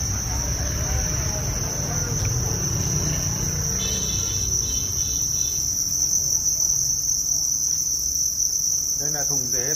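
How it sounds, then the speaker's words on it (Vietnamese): Thai field crickets chirp loudly and continuously inside a breeding box on a cricket farm, a steady dense trill carrying through the whole stretch with faint low background noise beneath. "Đây là thùng dế đang sinh sản."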